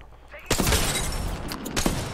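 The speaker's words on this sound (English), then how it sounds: "I'm getting shot by a P-2020, dude." Rapid bursts of P-2020 pistol fire in an Apex Legends arena match crackle loud and close, a dense volley starting abruptly and peaking again near the end.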